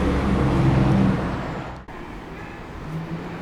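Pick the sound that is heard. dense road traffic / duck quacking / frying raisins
dense road traffic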